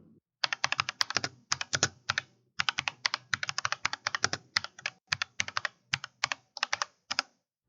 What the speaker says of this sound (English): Listen to the sound of my keyboard.